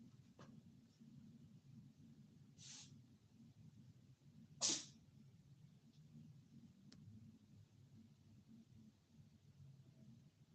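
One short, sharp sneeze rings out over a quiet, steady background hum, with a fainter burst just before it.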